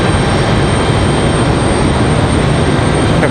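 Delta CRJ-900LR regional jet at Raleigh-Durham airport, a steady broadband engine roar that stays loud and even for the whole stretch, with no voices over it.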